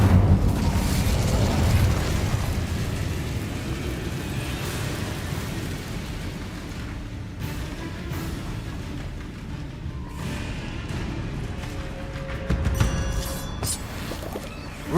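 Incendio fire spell cast in the Hogwarts Legacy video game, producing a loud, sustained roaring burst of flame. It fades into a rumbling crackle, then swells again near the end. No voices are heard.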